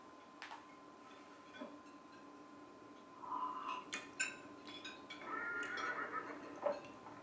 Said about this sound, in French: C'est le cas de le dire, puisqu'on a entendu un cheval.